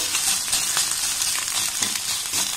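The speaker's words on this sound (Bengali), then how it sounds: "এবার সমস্ত সবজির সাথে ডিমটাকে আমি খুব ভালোভাবে এইভাবে কষে নেব।" Egg and mixed vegetables frying together in a pan while being stirred, a loud continuous sizzle with a few soft stirring pulses, close and unbroken.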